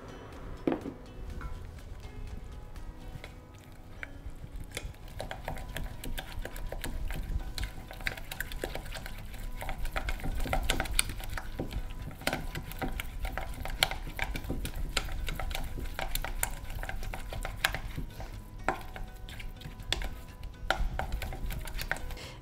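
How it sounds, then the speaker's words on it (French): A spoon or spatula stirs thick choux pastry dough in a pan over medium heat, making continuous close scraping and slapping sounds with small knocks against the pan and no talk. "je reviens sur le feu pour dessécher la panade. Donc là, je mélange bien, feu moyen."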